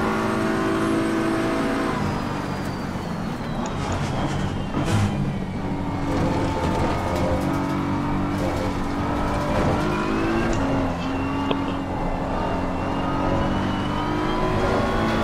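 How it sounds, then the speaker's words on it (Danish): A new McLaren race car in an LFM sim-racing event at Spa, its engine whining steadily as it accelerates and revs through the gears, loud and continuous with no talk. "Ja, det er den nye McLaren."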